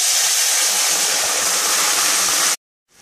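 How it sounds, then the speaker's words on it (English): Radish and onion cook in a pan with a little water, giving a loud, steady hiss of sizzling and steam up close that cuts off abruptly near the end. "And this will just get cooked with a little bit of water."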